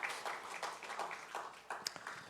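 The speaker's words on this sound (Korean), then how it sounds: "우리 박수로 환송하겠습니다" Church congregation applauding softly at a Sunday morning service, a brief patter of scattered clapping heard from a distance.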